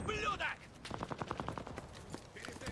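Rapid bursts of automatic gunfire in the video game Enlisted ring out in a quick rhythmic volley, loud and close, with brief game sounds before and after.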